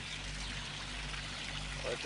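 Water is let in and poured steadily, a continuous splashing gush with a faint trickling texture, and a voice talks faintly over it.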